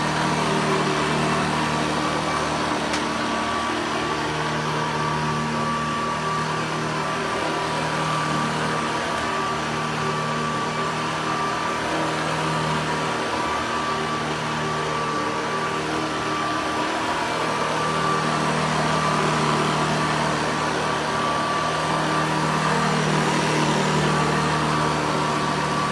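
A Hoover Commercial EH50500 vacuum cleaner runs steadily and loudly throughout, a continuous motor whine and airflow roar with a constant hum and no speech.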